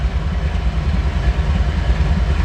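A freight train locomotive engine runs loud and close at a rail yard, a heavy, throbbing low rumble with steady mechanical churning and no voices.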